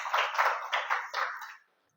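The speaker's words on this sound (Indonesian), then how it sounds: "Oke, tepuk tangan dulu." A classroom of students claps together in Indonesia, several short rhythmic bursts of applause in quick succession that stop abruptly, fairly close and with no talking over them.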